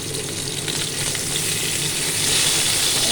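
Potatoes frying in hot oil in a pan, a steady loud sizzle with bright crackling and occasional stirring scrapes, continuous and close with no talk.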